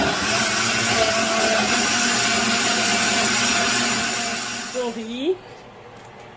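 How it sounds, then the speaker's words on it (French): A kitchen blender puréeing tomato runs with a steady loud whirring drone for several seconds, then winds down and stops, followed by a brief spoken word. "je vais aussi profiter pour mixer juste directement la tomate pour les tripes et puis la courge"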